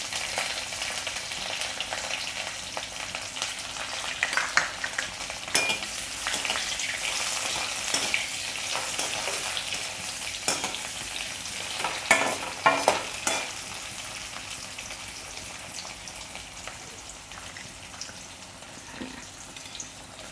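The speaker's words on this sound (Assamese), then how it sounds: "এতিয়া পিঁয়াজখিনি অলপ গোল্ডেন কালাৰ হোৱালৈকে ভাজি ল'ম।" Onions frying in oil for a bottle gourd skin fry, a steady loud sizzle with repeated spatula stirring and scraping against the pan throughout, close up and without talk.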